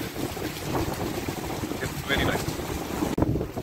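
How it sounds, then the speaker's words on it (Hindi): Strong wind gusts roar across the microphone during rain in the Maldives, with buffeting and rushing noise near the ocean throughout, and someone speaks briefly over it. "तेज हवा चल रही होती है यहाँ पे"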